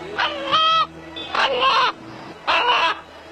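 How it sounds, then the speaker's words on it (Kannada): A rooster at the Madina Centre in Mahboob Nagar, Gulbarga, gives three loud, drawn-out calls in a row with an odd, honking, voice-like tone, close to the listener. "ಒಂದು ಹುಂಜ ಇದೀಗ ಅಲ್ಲ ಅಲ್ಲ ಎನ್ನುವ ಶಬ್ದವನ್ನು ಹೊರಹಾಕುವ ಮೂಲಕ ಇಲ್ಲಿನ ಜನರನ್ನ ಭಕ್ತಿ ಪರವಶರನ್ನಾಗಿ ಮಾಡಿದೆ"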